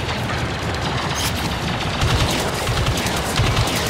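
Rapid, dense gunfire from a tank battle in a video game, a loud continuous barrage with heavy low-end booms rolling through the whole stretch and no talk over it.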